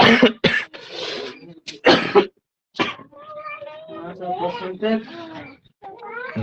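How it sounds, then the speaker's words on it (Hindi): A teacher giving a chemistry lesson coughs a few times in quick, harsh bursts close by, then clears their throat and carries on talking. "खांसियों का अभी आना जरूरी था"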